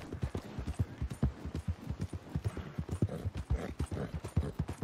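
Steady clip-clop of horse hooves at a trot in Red Dead Redemption 2, close and rhythmic, with a faint whinny in the mix and no talk.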